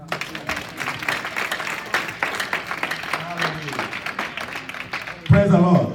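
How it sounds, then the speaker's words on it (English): A church congregation claps together during a service, a steady patter of many hands at moderate distance, with a louder burst near the end and some voices mixed in. "can you clap for them?"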